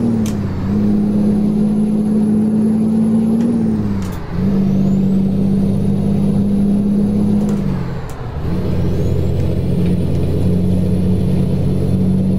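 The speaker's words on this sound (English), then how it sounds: "it doesn't sound as good as the old engine" A truck engine drones in American Truck Simulator with a modded replacement engine, a smooth, loud low hum that dips and climbs through two gear changes, with a faint high whine rising alongside.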